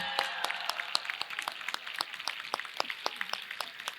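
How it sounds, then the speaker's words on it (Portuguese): Standing ovation at an early-childhood education panel, with scattered hand claps ringing out in a steady, moderately distant patter from a modest crowd, carrying on throughout without voices. "Eu acho que eles merecem também uma salva de palmas em pé."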